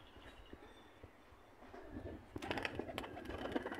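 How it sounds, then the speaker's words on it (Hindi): Pigeons at feeding time, soft cooing and scattered calls at first, then a busy flurry of fluttering wings and pecking noises builds and grows louder toward the end, close by with no speech. "काफ़ी कबूतर आ गए हैं और बहुत अच्छे अच्छे कबूतर हैं इनमें"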